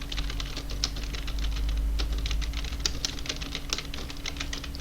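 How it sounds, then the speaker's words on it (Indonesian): Keys clatter in quick, irregular bursts as someone types on a computer keyboard into a Microsoft Word document, close and steady throughout with a low hum underneath and no voices. "Kita misalnya saja kita ngetik asal ya, ini sebagai contoh untuk mempraktekkan saja."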